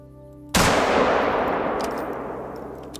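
A single loud rifle shot at a red deer in the hunting game theHunter: Call of the Wild, with a sharp crack followed by a long, rolling echo that fades slowly.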